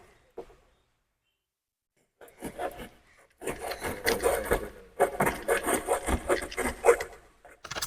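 Material for a homemade mango cover is cut by hand, heard as close, rough scraping and rasping strokes that start after a near-silent pause and keep going in uneven bursts.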